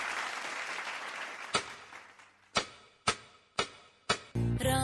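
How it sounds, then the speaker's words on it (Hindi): Audience applause on a TV dance reality show stage, a short burst of clapping that fades out, followed by several sharp separate percussive hits and a sudden loud burst of music at the end. "तालियां हो जाए"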